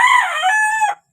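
Broodstag rooster at a game farm gives a single loud, close crow that holds steady and cuts off cleanly.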